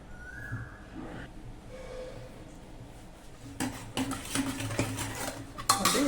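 A utensil scrapes and presses cooked eggplant and tomato against a metal pot, soft squelching mashing strokes that grow busier and louder toward the end, with no talking.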